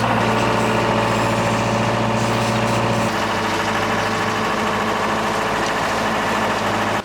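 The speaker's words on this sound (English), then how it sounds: "So the engine just needs to hold for 2 hours, and we will be at our final destination." An old sailing catamaran's engine runs steadily while motoring, a continuous close mechanical drone with a deep hum that drops slightly in pitch midway, with no talking.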